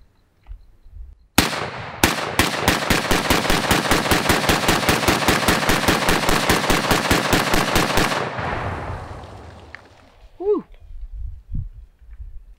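Rapid suppressed gunfire through a Small Arms Technologies CF30 carbon fiber silencer, a long fast string of loud, evenly spaced shots near the mic that stops abruptly, followed by faint voices.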